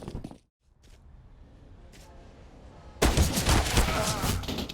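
Counter-Strike: Global Offensive gunfire in a professional esports match, a short burst of shots at the start, a near-silent gap, then a dense loud barrage of rapid gunfire over the final two seconds.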